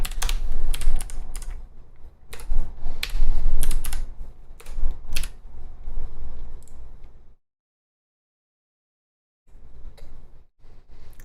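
Computer keyboard typing, heard close up in rapid clattering bursts of keystrokes. It pauses for about two seconds of silence, then resumes briefly.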